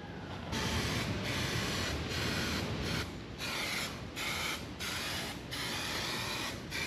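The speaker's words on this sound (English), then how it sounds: "We got this can Raptor liner we're gonna spray the whole bottom with." Spray can of Raptor bed liner coating go-kart panels during a restoration, a series of close hissing bursts of varying length separated by short pauses, with no talk over it.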